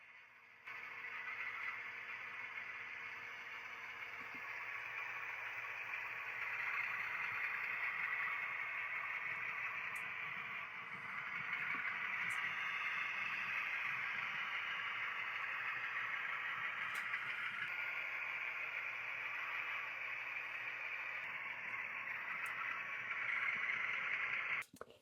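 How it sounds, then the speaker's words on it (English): Faint, steady electric hum and drone from a Walthers Proto U28B model diesel locomotive with a sound decoder, the engine note shifting slightly as it runs forward and backward, heard alone with brief clicks. "Let's hear how our engine revs up and such."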